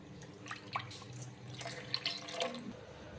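Water poured into a pot of blended Karnataka-style tambli, a faint trickle with scattered drips and small splashes.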